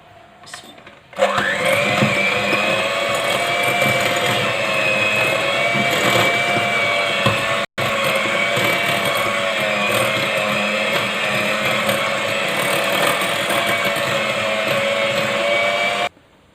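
An electric mixer beats butter for cupcakes, a steady high motor whir held loud and close for about fifteen seconds with one brief break partway through.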